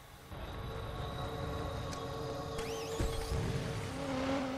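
A car driving in the video game Watch Dogs, a steady engine hum with a rising whine and tires squealing near the end, moderately quiet and without speech.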